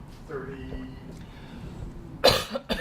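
A single sharp cough bursts out near the end after quieter background murmuring, loud and close, followed by a smaller throaty sound.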